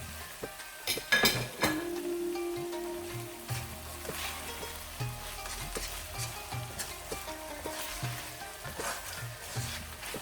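Spiced mince qeema with garlic powder fries in a pan over a lowered flame and is stirred steadily, making a soft, continuous sizzle with faint scrapes and no voices.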